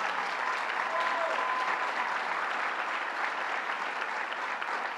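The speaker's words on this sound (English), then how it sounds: "Let's give him a round of applause." A crowd at a political rally in Yonkers for reproductive rights gives sustained, even applause, a steady wash of clapping lasting about five seconds with no pauses.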